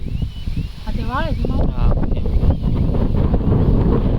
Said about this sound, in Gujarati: પવન એ બહુ છે